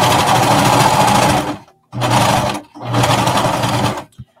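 A cover stitch sewing machine hemming a knit dress runs in three loud, close bursts of rapid whirring, separated by short pauses, the last burst ending with a small click.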